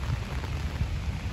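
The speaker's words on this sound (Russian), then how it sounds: "Походу, вот такой мелкий дождь будет продолжаться остаток дня." Light, fine rain falling steadily outdoors, a soft continuous patter with low rumbling texture throughout, no voices.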